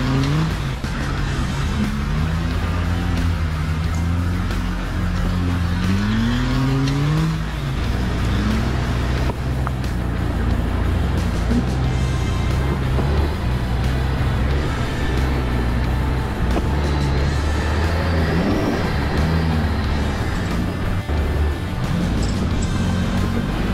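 A truck engine labours loud and close while climbing a steep green lane at Allt y Badi Steps near Llangollen, with revs swelling and dropping; any half shaft clicking stays buried under the drivetrain noise.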